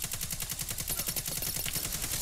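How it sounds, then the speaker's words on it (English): Rapid crossfire in the Destiny 2 video game: dense, continuous automatic gunfire with steady repeating shots, loud and close throughout, with no talking. "Getting caught in the crossfire a lot here."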